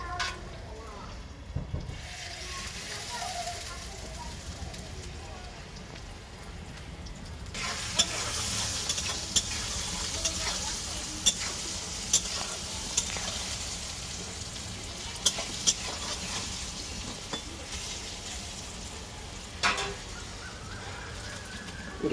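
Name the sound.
stirring and frying neem leaves with eggplant in a pan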